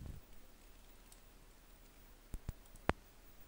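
A computer mouse gives three quick, faint clicks near the end, after a short quiet stretch with a soft thump at the start.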